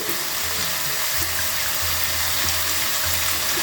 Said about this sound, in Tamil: ஓகே இந்த கட்டத்தில் சோயா சாஸ் ஊற்ற போகிறேன் இது லைட் சோய் சாஸ்